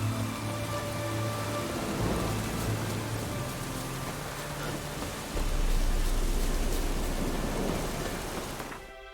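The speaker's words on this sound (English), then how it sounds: "like raining all day here." Steady heavy rain in The Witcher 3, a dense hiss of drops falling on surfaces that continues throughout, with a deep rumble of thunder swelling midway before everything cuts off abruptly at the end.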